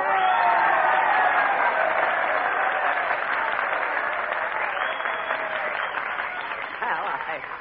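Sustained audience applause mixed with cheering at a 1942 radio show broadcast from the Biltmore Bowl, loud at first and slowly thinning out, with a voice audible under the clapping.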